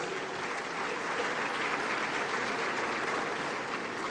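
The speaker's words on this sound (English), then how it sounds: "Dr. Kwame Nkrumah, a resounding round of applause to celebrate such a gallant" An audience at the 30th Afreximbank Annual Meetings in Accra, Ghana, breaks into a sustained round of applause, dense even clapping from a large crowd heard at a distance, steady throughout without a break.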